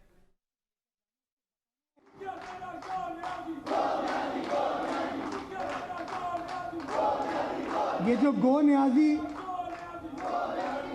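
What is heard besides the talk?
crowd chanting "Go Niazi Go" slogans at political rally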